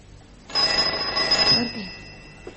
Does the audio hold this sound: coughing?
no